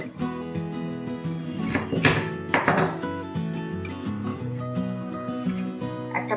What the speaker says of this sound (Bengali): এবার আলুটা কেটে নিচ্ছি, লম্বা করেই নেবো